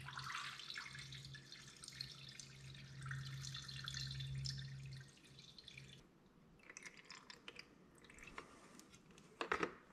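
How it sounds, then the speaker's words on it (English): Coolant poured into the radiator of a 2020 Raptor 700 ATV, a liquid trickling and gurgling up close that runs steadily, then breaks into scattered drips and splashes. "I'm all set up here to pour coolant in the radiator"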